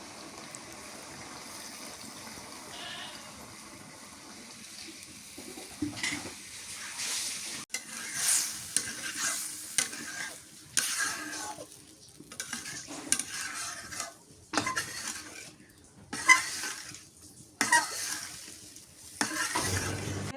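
Bottle gourd being stir-fried in a pan at a village cooking setup, with intermittent scraping and stirring strokes against the pan that come in irregular bursts, fairly quiet, and no one talking.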